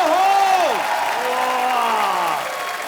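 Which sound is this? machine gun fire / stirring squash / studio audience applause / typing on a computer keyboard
studio audience applause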